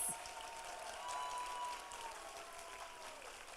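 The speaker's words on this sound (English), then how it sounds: "One more round of applause for our dental assisting students" An audience applauds dental assisting students at an English Language Learner healthcare pathways recognition ceremony, a steady, fairly faint round of clapping heard from a distance that carries through the whole clip.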